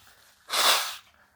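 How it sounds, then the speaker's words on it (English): A single short, breathy nose blow, one quick burst of air lasting about half a second, set against near silence. "I just have to blow my nose."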